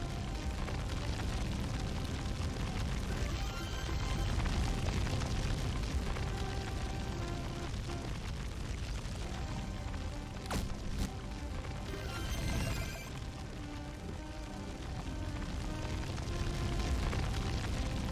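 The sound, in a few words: loud fire burning in a video game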